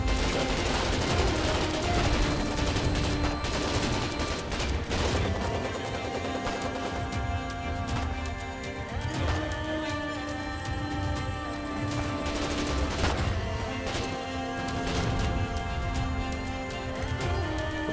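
Gunfire rattles in the war game Foxhole, with dense bursts of automatic fire and scattered single shots over a continuous loud battle din and a sustained musical drone, nothing quiet for the whole stretch.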